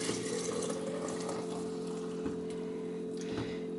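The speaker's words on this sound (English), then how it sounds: "So I'm just going to pour the milk in here." Milk, about one liter and already boiled, pours steadily into a jar for homemade yogurt, a continuous close liquid stream with a steady hum running under it.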